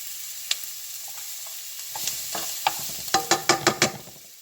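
Garlic hits a hot pan with steak, setting off a steady sizzle and fry that builds partway in, topped by a run of sharp, quick utensil clinks and stirring scrapes near the end.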